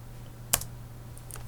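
A single computer keyboard keypress during a beginner Microsoft Word lesson gives one sharp click near the middle of a quiet stretch, followed by a few faint later taps.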